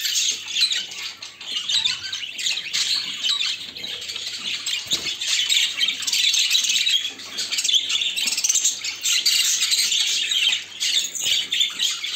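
Caged pet birds squawking and chirping constantly on a hot day around a bath, a dense, shrill, continuous chatter close by with no talking.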